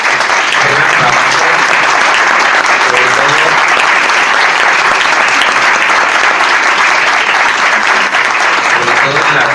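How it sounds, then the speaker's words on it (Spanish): Sustained, dense audience applause fills the hall at a round-table talk, steady and loud throughout with no voices rising above it. "querría, por un aplauso, agradecerles este gran trabajo"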